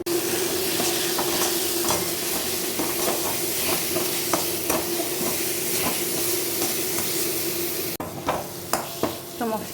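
A spice paste of turmeric, cumin and salt sizzles steadily in a pan for dahi chicken, a loud continuous frying hiss with occasional stirring scrapes, briefly dipping near the end before resuming.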